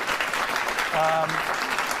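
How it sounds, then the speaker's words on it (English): Studio audience applause on a late-night talk show, a dense, steady wash of clapping heard with a voice briefly speaking over it. "You can applaud."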